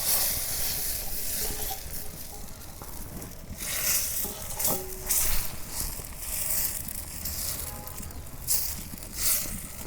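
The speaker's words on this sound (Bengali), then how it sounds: "লাস্ট পিঠা ভাজতেছি" Spicy pitha frying in a pan, a steady close sizzle and crackle with occasional louder pops and light utensil scrapes throughout.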